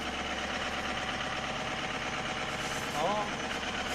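An older vehicle's engine running at idle in snowy conditions, a steady low rumbling drone that continues throughout, close and even, with a brief squeak near the end and no talking over it.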